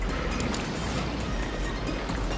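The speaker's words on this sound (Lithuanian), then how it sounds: "O, bangos kokios." Sea waves heard from a boat, a dense continuous rushing wash of water and wind noise with low rumble, steady and close throughout.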